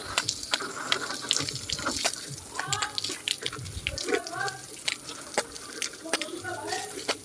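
Water from a motor pump splashing onto garden plants, including a brinjal plant, a continuous gushing and spattering with uneven bursts, while a voice talks over it at times.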